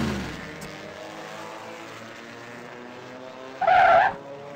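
Animated race car skidding on oil and spinning out, engine droning under a sharp burst of tire squeal near the end.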